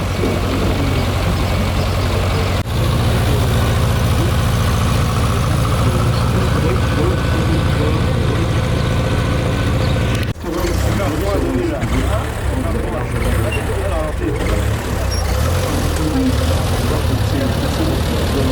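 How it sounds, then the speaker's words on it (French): An old tractor with an unusual engine idles steadily and loudly at an outdoor gathering, its low rumble continuous throughout, with people talking over it and a brief dip in the sound near the middle. "il a un joli tracteur avec un moteur un peu spécial"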